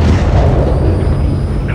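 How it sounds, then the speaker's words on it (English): A missile slams into a SAM site in the Call of Duty Modern Warfare III video game, producing a loud, sustained rumbling blast that fills the whole moment and rolls on without a break. "Gunner, drop a missile on that SAM site."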